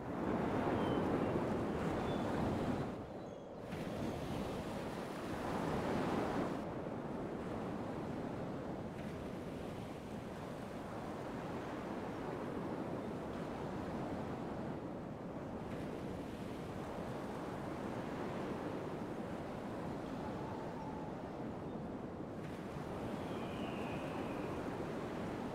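Ocean waves wash and surge steadily around ships setting sail in Rome Total War, a broad continuous roar with a dip early on and faint wind layered over it, no voices.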